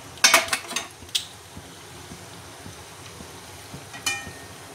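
Urad dal, peanuts and lentils frying in hot oil in a pan, a faint steady sizzle with a few sharp scraping and stirring clicks near the start and again later, no talking.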